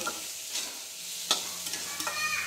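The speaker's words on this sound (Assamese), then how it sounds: "এটা ভেজ চাওমিন বনাম ধুনীয়াকৈ বনাই আছো" Vegetable chowmein with cabbage and onion is stir-fried in a pan, giving a steady, close sizzle broken by a few sharp scrapes and tosses of the spatula. No one speaks.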